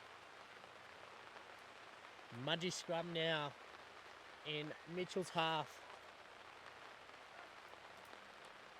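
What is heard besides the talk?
heavy rain pouring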